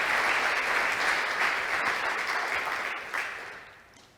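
Church congregation applauding during a sermon, a dense, steady wash of clapping that holds strong for about three seconds and then thins and fades toward the end.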